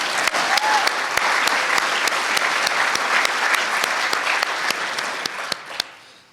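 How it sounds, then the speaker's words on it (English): Audience at the Harrisburg Nativity School Breaking the Cycle Breakfast applauding Hasir, a sustained burst of dense clapping close by, loud and even before fading out at the end. "How about a round of applause for Hasir?"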